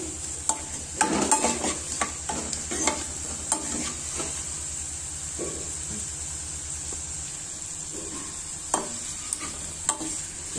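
Onion, garlic, green chillies and curry leaves fry in hot oil as tempering for an amaranth-leaf dal, giving a continuous close sizzle with bursts of spoon scraping and clatter early on that ease into a quieter, steady fry.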